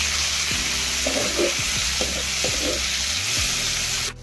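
Onions frying in oil in a pan for an Odia prawn curry, a continuous close sizzle with occasional stirring scrapes, with no talk.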